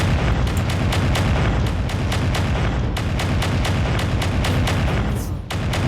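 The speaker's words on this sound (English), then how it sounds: "Oh, that's a lot of missiles." A barrage of LRM missiles explodes in the MechWarrior 5 video game: loud, rapid, overlapping booms and blasts pound continuously over deep rumbling, then briefly dip before one last impact.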